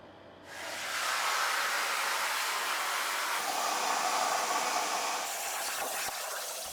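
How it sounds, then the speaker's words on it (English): A plasma table cuts steel templates, giving a loud, steady broadband hiss that starts abruptly after a brief quieter moment and runs unbroken to the end. "I have to get to the plasma table and cut these out"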